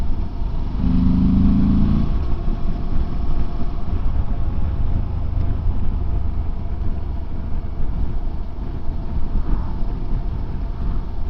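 A Morbidelli T1002V motorcycle rides at steady speed, its engine droning continuously up close under heavy wind rush, with a brief rise in engine tone early on and no pauses.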